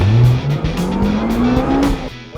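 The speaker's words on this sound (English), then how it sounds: "we're here with the 2008 Lotus Exige S240, the quickest car Lotus has ever made" A 2008 Lotus Exige S240 sports car is driven hard, engine revving up steadily through a gear as the tires squeal and skid, loud and close with no talking.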